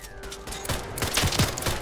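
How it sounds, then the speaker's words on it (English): Shotgun fire erupts in the Fallout 4 video game, a quick cluster of punchy blasts within a couple of seconds over continuous in-game ambience and music. "Oh, someone's got a shotgun."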